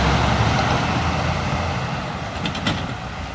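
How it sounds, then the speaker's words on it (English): A double-decker trailer truck passing on a road, a loud close broadband roar that eases slightly as it goes by. "Okay, look. Double-decker trailer."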